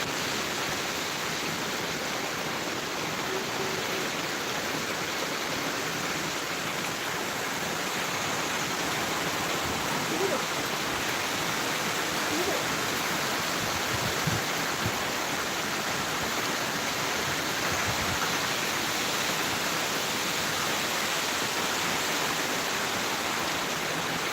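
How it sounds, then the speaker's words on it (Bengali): Dense, even roar of heavy rainfall during Cyclone Remal in Kolkata, steady and unbroken throughout, with no voices. "এত বৃষ্টি হচ্ছে দেখো প্রচুর বৃষ্টি হচ্ছে"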